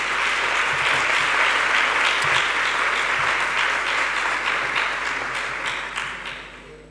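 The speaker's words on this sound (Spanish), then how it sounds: "un aplauso si sois tan amables" Sustained audience applause at a conference panel on newborn screening in Valencia, dense and steady throughout before gradually thinning toward the end.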